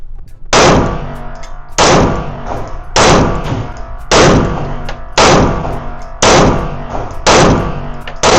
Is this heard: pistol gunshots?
yes